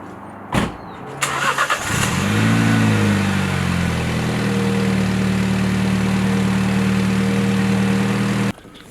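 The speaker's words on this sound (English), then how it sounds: "Final cold startup with this exhaust." A Mini fitted with a JCW Pro Tuning exhaust cold starts with a clunk of the starter, then the engine catches with a loud bark and settles into a raspy, droning high idle up close until it cuts off.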